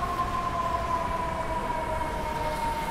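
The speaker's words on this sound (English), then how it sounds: "Fire engine." On a rainy New York street, a fire engine siren holds a steady, wavering tone over a broad wash of traffic and rain noise, moderately distant.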